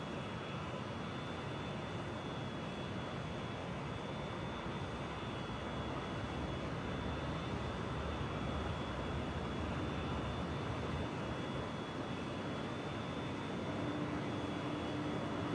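Twin jet engines of a Su-27 fighter at full thrust for takeoff in the DCS World flight simulator, a loud, steady, broadband roar with a faint high whine, holding constant throughout with no talk.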